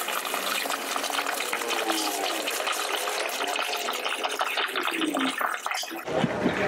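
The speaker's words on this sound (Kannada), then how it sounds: "ಬೇಯಿಸ್ಕೊಂಡಿದ ನಂತರ ಈಗ ನೀರು ಹಾಕ್ಕೊತಾ ಇದ್ದಾರೆ." Water poured into a large pot of cooked mutton for biryani in a busy early-morning kitchen, a steady close rushing gush that runs for several seconds and then stops.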